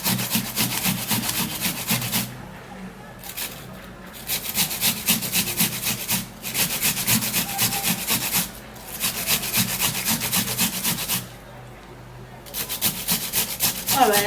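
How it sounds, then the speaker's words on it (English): Medium onion being grated by hand on a kitchen grater, with repeated close rasping strokes in bursts separated by brief pauses. "The grater is very reachable and I could just grab it and start grating"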